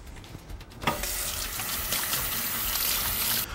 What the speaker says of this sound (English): And to make sure you wash your hands after you deal with the meat.